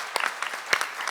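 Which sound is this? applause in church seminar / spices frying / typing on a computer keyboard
applause in church seminar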